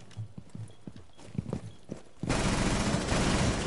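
Gunfire in the video game Rainbow Six Siege: a few scattered, sharp single shots, then an abrupt, sustained and dense burst of loud firing that fills the rest of the moment, with no one talking.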